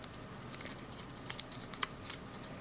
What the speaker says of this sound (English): you can really get some intricate cuts when you're using those curved scissors